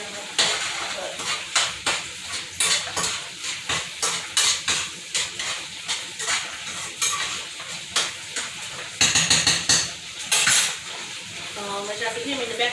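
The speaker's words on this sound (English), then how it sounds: "as y'all can hear me in the background stirring my rice" A spoon scrapes and clinks against a pot while rice is stirred during a pepper steak and rice cooking session, with repeated uneven knocks and scraping strokes over a faint kitchen hiss.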